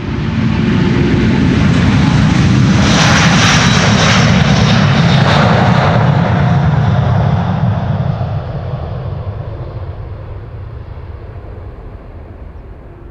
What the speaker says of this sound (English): Delta Airlines flight 163 to Minneapolis, Minnesota,